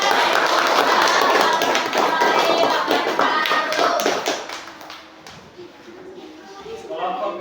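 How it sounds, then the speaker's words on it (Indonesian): A group of teachers and students in a classroom applauds after a presentation, giving dense, loud clapping that thins out after about five seconds, with voices talking underneath. "Iya, tepuk tangan dulu."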